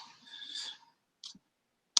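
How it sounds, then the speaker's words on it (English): A few sharp, clicky taps on a computer keyboard, separated by brief silences, with a faint soft rustle at the start. "the noisy typing I was doing"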